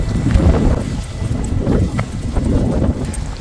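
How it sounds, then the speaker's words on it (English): Cold early-morning wind outdoors on a street, a steady loud low rumble of wind buffeting the microphone throughout, with no talk. "The wind."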